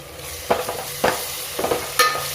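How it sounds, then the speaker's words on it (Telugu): Ginger, garlic, coriander and mint fry in oil for a vegetable biryani, a steady sizzle broken by four sharp stirring scrapes at regular intervals. "ఇది నూనెలో కొంచెం కలర్ చేంజ్ అయ్యే వరకు మంచిగా జర ఫ్రై చేసుకోవాలి"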